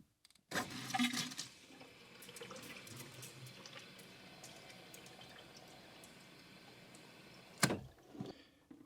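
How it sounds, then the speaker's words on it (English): Steady rushing water pours continuously for several seconds into a bucket, muddy water flushed from a Citroën CX GTi cooling system, with a few bumps and clatters at the start and a sharper knock near the end. "And currently muddy water is coming out."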